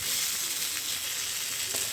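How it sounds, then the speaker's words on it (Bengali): Eggplant slices frying in oil in a covered pan, a steady close hiss of sizzling that holds even throughout with a few faint pops. "একদম ভালো বেগুন ভাজা হবে।"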